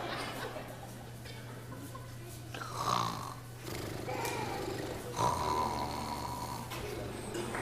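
Loud, drawn-out snoring repeats in slow, rhythmic breaths, each rasping inhale rising above a steady low hum.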